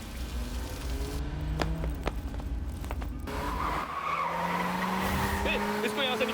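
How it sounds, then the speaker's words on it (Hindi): A car speeds away with its tires skidding and squealing over a continuous engine roar, loud and close, with voices shouting beneath it. "तू जल्दी गाड़ी भगा।"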